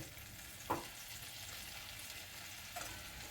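Pav bhaji masala sizzling in butter in a wok, a quiet steady frying hiss with two small stirring clicks, no voices.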